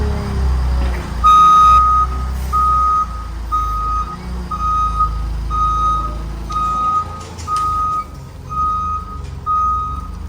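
A truck backs up at a warehouse, its reversing alarm sounding a regular series of about eight loud, evenly spaced beeps over a low diesel engine rumble, with no talking.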